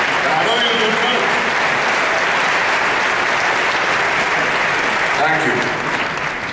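A large conference audience at AIPAC bursts into loud, sustained applause that fills the hall throughout, with voices faintly mixed into the clapping.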